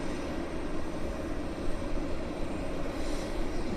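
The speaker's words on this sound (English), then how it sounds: "here's our Canada 37. Taxiing out nicely" An Air Canada jet taxis at Vancouver Airport, heard as a continuous broad engine roar with a faint whine, steady and fairly close, with no voices.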